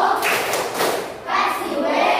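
Schoolchildren in a classroom clap in unison during a science lesson, producing a few loose rhythmic bursts of hand claps with thumps mixed in, fairly close and uneven.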